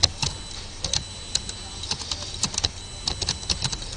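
Fast, uneven typing on a computer keyboard while editing code, with quick bursts of light clicks and short pauses, close and fairly quiet with no talking.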